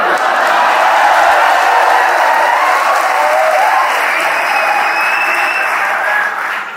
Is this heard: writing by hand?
no